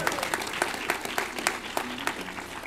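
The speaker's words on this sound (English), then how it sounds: "round of applause for Jordan" Audience applause at a game awards show in New York, steady clapping from a large crowd throughout, with a voice briefly speaking over it.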